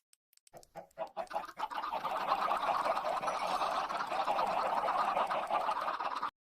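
Chickens clucking and squawking in the Minecraft video game, a dense, loud, continuous chorus of many birds building up after a few scattered clucks at the start.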